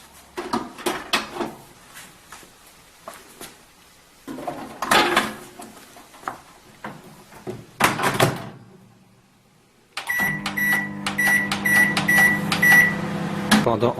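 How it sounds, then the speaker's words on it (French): Kitchen handling noises, doors and clatter of dishes come first, then a microwave oven heating a bottle of water starts up with a steady hum and a series of short repeated beeps, close and clear, without talk. "chauffez la bouteille d'eau au micro-ondes"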